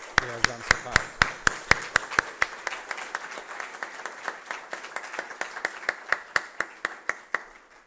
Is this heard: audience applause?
yes